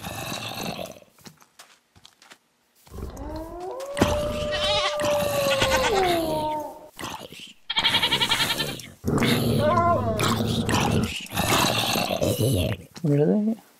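Goats bleat in the Minecraft video game, several loud, wavering cries rising and falling in pitch in separate bursts, with a person talking over and between them.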